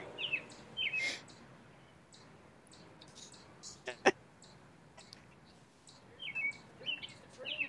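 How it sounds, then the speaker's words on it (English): Faint bird chirps come in short bursts at the start and end, with a sharp click in the middle, outdoors and quiet, with muffled voices nearby. "and birds."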